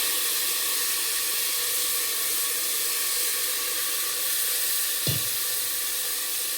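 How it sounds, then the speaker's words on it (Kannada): Sprouted horse gram frying in a pan, giving a steady loud hiss and sizzle with one brief clunk near the end, no talking over it. "ಇವಾಗ ಹುರುಳಿಕಾಳನ್ನು ಸಹ ಚೆನ್ನಾಗಿ ಒಂದು ಸಲ ಫ್ರೈ ಮಾಡ್ಕೊಳ್ಳಿ."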